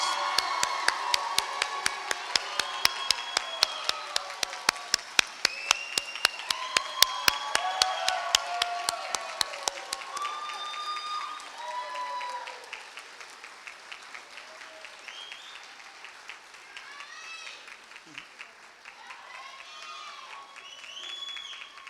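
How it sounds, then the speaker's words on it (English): Big round of applause from an audience at a community college nursing class pinning ceremony, dense clapping with a few loud individual claps standing out, slowly thinning toward the end. "Let's have a big round of applause for this brand new nursing class"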